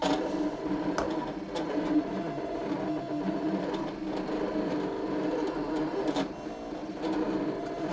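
A ScanNCut cutting machine works through textured paper with a quiet, steady mechanical whir and occasional small clicks, close and continuous.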